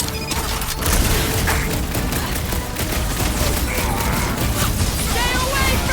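Chaotic sci-fi combat gunfire in Marvel's Guardians of the Galaxy, with constant loud blasts, booms and crashes layered densely throughout, while characters shout over the action.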